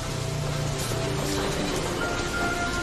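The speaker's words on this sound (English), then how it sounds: "This rain is really not motivating me." Rain falling steadily outdoors, a dense even hiss of drops on surfaces that holds constant from start to finish with no talk over it.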